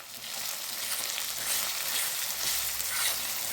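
Spices stirred into a hot onion tempering for sorghum upma sizzle and crackle steadily, a bright close frying hiss with soft stirring scrapes and no voices.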